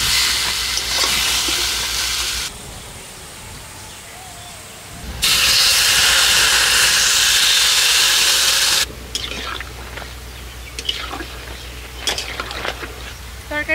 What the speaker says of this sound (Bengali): তরকারির ঝোলটা ফুটতে শুরু হয়ে গেছে